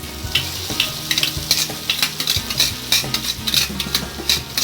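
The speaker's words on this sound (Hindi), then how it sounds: "अब देखिए सारे पोहे डाल रही हूँ।" Poha tipped into hot frying spices and tomato in a pan for Maharashtrian kanda poha, loud sizzling with repeated scraping stirs and clinks of a spoon against the pan, close and busy.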